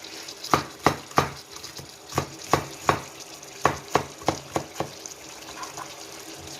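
Sharp knife taps on a cutting board, a dozen or so quick chops in uneven bursts, close up with no talking.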